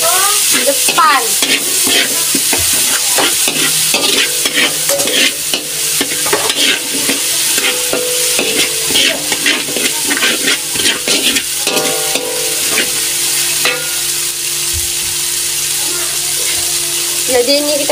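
Eggplant sautéing with spices in a frying pan, a loud steady sizzle throughout with frequent scraping stirs of a utensil against the pan and occasional faint voices in the background.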